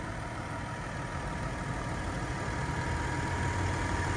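A 2012 Audi Q7 3.0 V6 TDI diesel idles in a steady, unbroken low rumble that holds at an even level from start to finish, with no voices.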